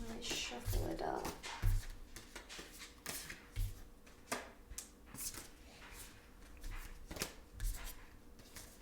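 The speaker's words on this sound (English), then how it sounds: "Let's shuffle it up." Tarot cards being shuffled by hand, soft riffling and papery slaps with occasional taps, close and fairly quiet beneath a steadily talking voice.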